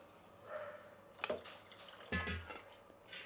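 Water is added to millet dosa batter in a kitchen, a few faint, quiet drips and soft wet splashes spread over a few seconds.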